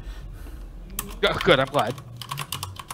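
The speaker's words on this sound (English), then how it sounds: "You can hear me tip tap typing away." Rapid tapping of a computer keyboard, close and steady, with a voice briefly speaking over the keystrokes in the middle.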